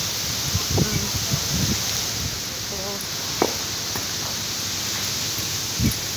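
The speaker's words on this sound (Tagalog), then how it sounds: "Ang lakas naman ng hangin" Strong wind blows outdoors near a quiet church, a steady broadband rush with occasional low buffeting thumps and brief faint voices in the background.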